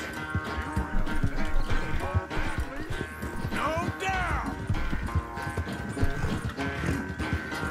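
A horse gallops in Red Dead Redemption 2 with steady rapid hoofbeats, a neigh rising midway, while someone speaks German over the ride.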